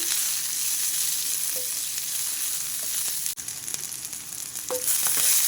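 Onions fry in a pan for a jackfruit seed curry, giving a continuous hissing sizzle with a few clinks of a spoon against the pan and a sharp knock midway.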